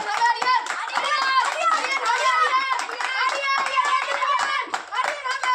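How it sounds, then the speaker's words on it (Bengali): Children clap their hands together during a lively party game, the steady patter of claps mixed with continuous excited kids' voices and chatter close by. "হাততালি দাও সবাই, হাততালি দাও, হাততালি দাও"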